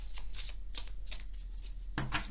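Tarot cards are cut and riffled by hand in a quick series of crisp papery shuffles, about half a dozen soft bursts close up, ending with a sharper snap.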